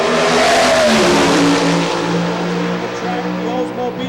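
A Pro Stock Oldsmobile drag car screams down the track at Maple Grove Raceway during qualifying at the Keystone Nationals, a loud rising engine roar that fades as it pulls away, with a commentator talking over it.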